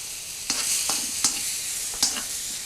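Salted black beans and garlic sizzle in a hot, lightly smoking wok, with a steady frying hiss broken by three or four sharp scraping stir strokes.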